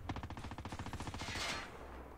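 Rapid automatic gunfire in Call of Duty Mobile from a PP-Bizon, a fast burst of about a dozen evenly spaced sharp shots that ends in a brief fading tail, loud and close with no talking.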